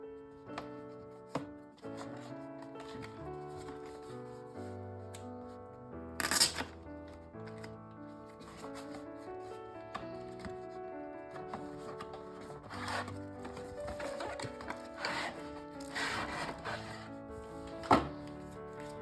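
Rustling, scraping and crinkling of Anker 335 power bank packaging as it is opened and handled up close, with sharp crackles of paper or plastic amid soft background music.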